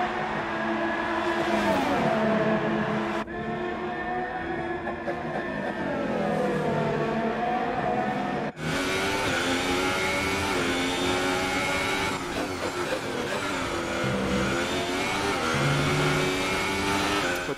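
Formula 1 race car engines in the F1 2018 video game, a continuous loud high-pitched wail that rises and falls with gear shifts and overtaking, with a brief dip before the engines surge again, no talk over it.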